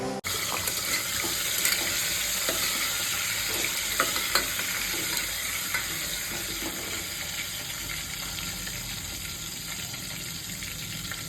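Boiled eggs fry in oil in a pan over a medium flame for egg biryani, with a loud, constant sizzle and crackle and occasional small pops throughout.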